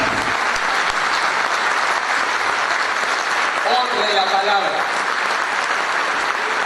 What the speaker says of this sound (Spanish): Dele palmas de honra a la palabra.